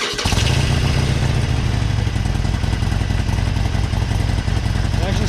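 A Harley-Davidson Forty Eight motorcycle fitted with a new intake cranks briefly, then catches and settles into a loud, close, lumpy idle with a steady rhythmic thump.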